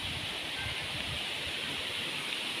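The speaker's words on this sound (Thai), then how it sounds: "น้ำตกภูรินค่ะ" Steady, dense rushing of Phu Rin waterfall on a mountain, a constant broadband roar without pauses.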